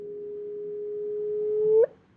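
A sonified gravitational-wave chirp from merging black holes: a steady pure tone that slowly rises in loudness and pitch, then sweeps sharply upward in a brief final chirp before cutting off into faint background noise.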